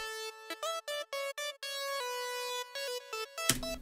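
Two synthesizer voices an octave apart play a Friday Night Funkin' Djentbot melody together, a bright buzzy lead of short choppy notes with stepping pitch, ending in a sudden noisy burst.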